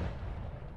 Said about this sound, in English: Strange explosions just happening.